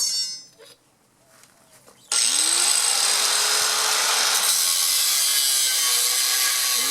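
A power saw cuts material for a garden row cover frame, with a quiet motor whine and then a loud, steady, close grinding cut that runs without a break for several seconds.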